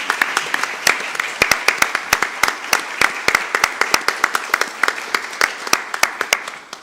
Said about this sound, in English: can we just have a round of applause for Coach Easton?